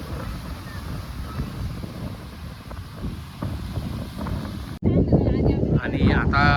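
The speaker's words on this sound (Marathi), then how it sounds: "हा आपलो अथांग समुद्र अरबी समुद्र" Wind and surf of the Arabian Sea at Sarjekot beach, a loud steady roar with heavy wind buffeting on the microphone, then a person talking over the wind near the end.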